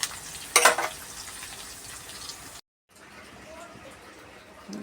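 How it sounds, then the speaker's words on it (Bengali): Chopped onions frying in a wok over dried red chillies and minced garlic: a loud crackling burst early on, then a softer continuous sizzle, briefly cut to silence before the sizzling resumes faintly. "এবার পেঁয়াজ দিয়ে দিলাম, ভাজা ভাজা হোক।"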